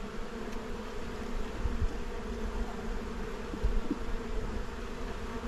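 Honeybees swarm and buzz steadily around an open hive, a dense close drone of many wings lasting throughout with no talk.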